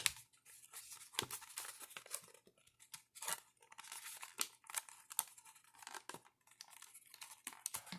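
Paper folded by hand into an origami sunflower, with close, dry crinkling and crisp creasing in an irregular run of sharp bursts and rustles, no talk.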